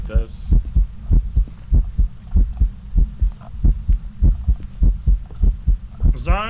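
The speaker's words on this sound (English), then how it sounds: "That heartbeat is so fucking loud." Heavy, looping heartbeat from the horror game Phasmophobia, a loud, deep double-thump pulsing at a steady quick rhythm throughout, with brief talk at the start and end.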